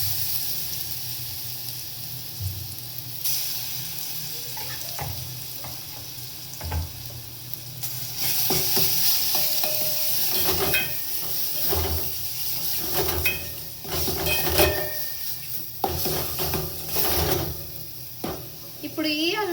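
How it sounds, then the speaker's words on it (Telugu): Ginger garlic paste sizzles and crackles in hot oil in a pan, a soft steady fry with occasional stirring scrapes, while a person talks over it. "ఇప్పుడు ఈ అల్లం చిన్నులపై పేస్ట్ని నేను పచ్చివాసన పోయేదాకా వేపుతాను చూడండి"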